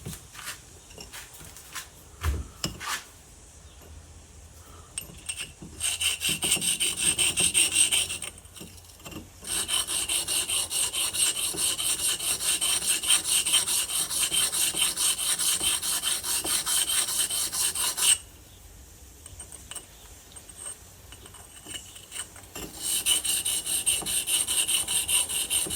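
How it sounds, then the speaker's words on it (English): Metal being rubbed back and forth on an oil stone lubricated with 3-in-1 oil, a close, steady rasping scrape in long sustained bursts separated by brief pauses. "I've got an oil stone here. Give it a bit of a rub with"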